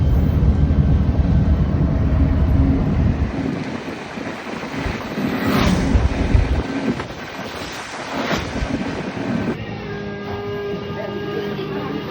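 Heavy, blustery wind buffeting the microphone on Siargao island in the Philippines, a low roaring rumble with gusts that swell and ease, and faint voices underneath.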